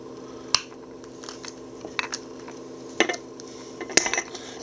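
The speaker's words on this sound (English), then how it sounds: "we'll just take a pair of tin snips about halfway through" Tin snips cut through metal in a few sharp, separate snaps with quiet pauses between them, close by and without any talking.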